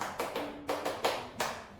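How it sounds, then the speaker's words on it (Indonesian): Students in a micro-teaching classroom lesson perform a rhythmic clapping chant, several sharp separate claps in a patterned beat, close and fairly quiet, with no talk between them. "Sekarang ibu mencontohkan terlebih dahulu tepuk semangatnya"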